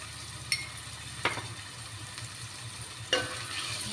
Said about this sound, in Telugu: ఉల్లిపాయలు బాగా వేగినాయండి. పైకి నూనె తేలింది.